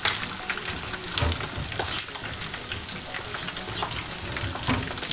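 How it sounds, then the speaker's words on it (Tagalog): Pork chop frying in fatty hot oil, a dense continuous sizzle with sharp crackling pops and spatters scattered through it, close and fairly loud, no voices. "Dahan-dahan din po kayo sa pagpiprito at minsan po napilansi po yan."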